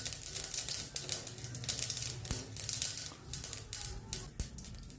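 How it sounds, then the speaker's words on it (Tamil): Mustard and cumin seeds crackle and pop in a little hot oil on a stove, a dense run of rapid sputters and sharp ticks with no voices. "இப்போ அடுப்பில் கொஞ்சோண்டு எண்ணெய் ஊற்றிட்டேன், கடுகு போட்டாச்சு"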